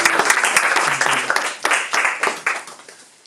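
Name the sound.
audience applause welcoming the speaker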